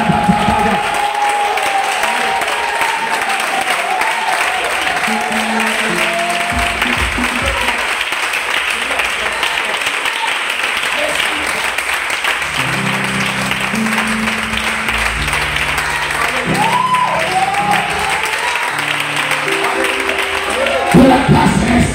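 Church congregation applauding and acclaiming together, a steady sustained wash of clapping with crowd voices and cheers rising over it, loud and continuous throughout.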